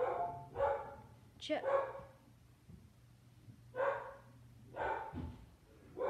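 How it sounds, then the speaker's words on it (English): A pet dog barks indoors in several short, separate bursts spread over a few seconds, mixed with a person talking nearby. "That's my dog."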